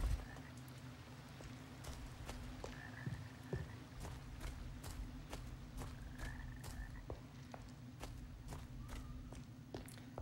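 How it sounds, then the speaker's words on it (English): Character footsteps in the video game Gothic, a regular series of soft, crisp steps in a steady walking rhythm over a low constant ambient hum, quiet and without talk. "You might be able to hear our footsteps,"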